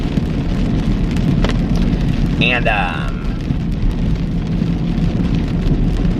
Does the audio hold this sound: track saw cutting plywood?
no